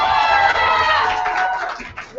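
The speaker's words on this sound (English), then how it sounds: "Let us keep that applause going" Audience clapping and cheering at a youth poetry slam bout, a dense wash of applause and whoops that gradually thins out toward the end, with a voice speaking over it.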